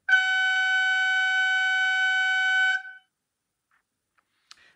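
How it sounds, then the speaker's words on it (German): Signal horn of a Märklin Köf 2 DSB digital model locomotive, a single steady loud electronic horn tone held for nearly three seconds, then cut off into near silence with a faint click. "das Signalhorn."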